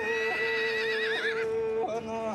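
A Yakut horse whinnies loudly and close by in a long, wavering neigh that fills the moment, then a second shorter rising call breaks out near the end.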